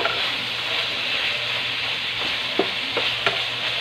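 Garlic and onion brown in hot oil in a pan as they are stirred, making a continuous close sizzle with a few soft knocks and scrapes of a utensil toward the end.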